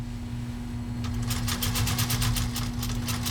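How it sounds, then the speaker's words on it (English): A 1942 Singer 201-2 sewing machine hums at rest, then starts stitching through leather at a slow, steady pace, its needle clicking in an even, rapid rhythm over a low motor drone, close and clear without speech. "see how this machine does on leather"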